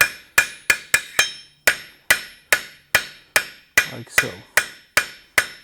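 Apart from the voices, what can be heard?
light fast hammer strikes forging blacksmith's tweezers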